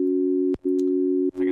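A steady, pure synth lead tone drones like a dial tone in a hybrid trap lead patch, briefly cut twice, with a brighter buzz entering at the end.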